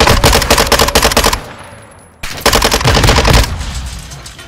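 Loud, rapid automatic gunfire in Call of Duty: Modern Warfare 2 on the Shipment map in Hardpoint mode, two long dense bursts close up, split by a short pause.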